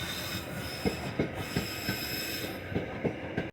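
A Merseyrail Wirral Line train rolls along at platform level with a steady rumble, rhythmic clicks of wheels over rail joints and a faint squeal, with no voices.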